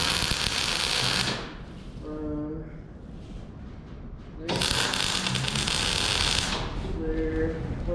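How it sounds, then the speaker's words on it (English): Spot welding walk-through forks for a skid steer, two loud crackling bursts of welding each lasting over a second with a quieter pause between, and faint tonal hums in the gaps. "So let's do spot weld."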